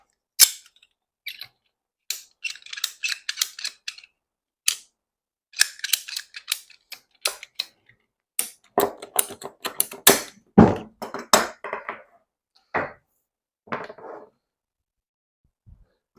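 Short snips and clicks of a cutter biting through PVC pipe while building a low-cost hydroponic system, a rapid run of sharp cuts, then sparse louder snaps, close and clear with no talking.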